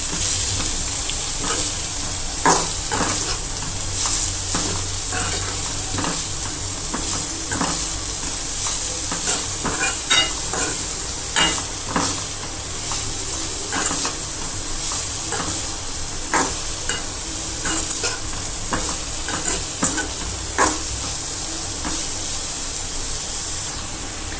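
Shredded cabbage for Gujarati sambharo being stirred with salt in a hot pan, a continuous sizzle and hiss broken by repeated scraping strokes of the spoon at an uneven rhythm, close and steady throughout.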